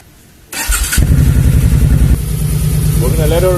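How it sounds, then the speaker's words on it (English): Motorcycle engine starting after a cracked frame fix and misfire repair, catching abruptly and settling into a loud, steady idle as it warms up, with a voice briefly heard near the end. "We're gonna let her warm up and idle down."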